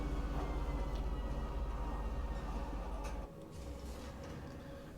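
A train in Star Citizen rolls into the station with a steady, loud rumble and a rhythmic clatter, then the noise drops suddenly to a quieter hum as it comes to a stop.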